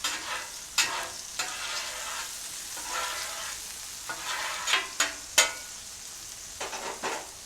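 Meat for cheeseburger subs sizzles on the hot side of a grill, a steady crackle broken by several sharp spatula scrapes and taps, close by with no talking.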